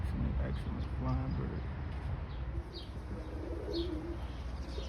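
Soft cooing and faint chirps from this year's young pigeons of a flying kit in Maryland, heard distantly over a low outdoor rumble and background noise.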